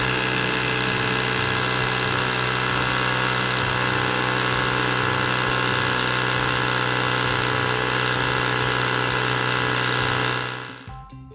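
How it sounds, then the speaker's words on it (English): A tire pump runs steadily while inflating the tire of a Razor Dirt Quad, giving a continuous loud mechanical drone that cuts off near the end. "Attach your tire pump. And inflate to 30 psi."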